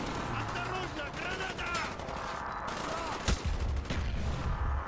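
Rapid gunfire rattles toward a guard post in Call of Duty Black Ops, a dense, continuous fusillade with a heavier thump late on and voices mixed in.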